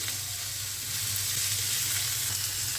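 Salt, turmeric and garam masala are stirred into a pan of vegetables for veg thukpa, with a continuous close, even frying hiss and no talk.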